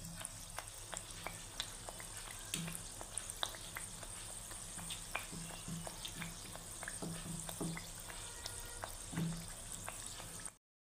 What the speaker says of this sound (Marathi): तर हिलासुद्धा आता आपण 2 मिनिटं तळून घेऊ